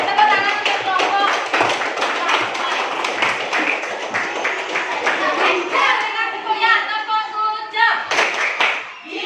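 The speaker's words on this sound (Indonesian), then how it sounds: "tepuk tangan untuk kelompok" A class of children applauds a presenting group, steady clapping from many hands filling the room, with some chatter and a brief voice near the end.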